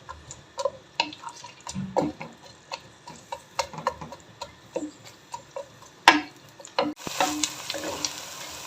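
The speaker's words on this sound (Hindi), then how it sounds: "प्याज और लहसुन को मैं हल्का सा गोल्डन ब्राउन कर लूंगी।" Sliced onions and whole garlic cloves frying in a pan while browning for spicy achari chicken, crackling sizzle broken by frequent ticks and scrapes of stirring, with a louder clatter near the end before the sizzle swells.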